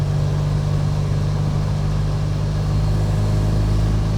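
A supercharged MGB with a B Series engine cruises in fourth gear at about fifty miles an hour near 3,000 rpm, giving a steady, loud low engine drone with road rumble and no variation.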